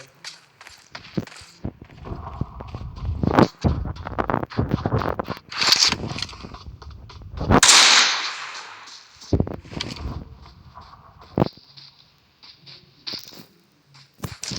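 Gunfire in a shooting video game comes as a string of sharp, loud, broadband bursts, some quick and some spaced apart, with one longer hissing blast near the middle and softer scraping, footstep-like sounds in between.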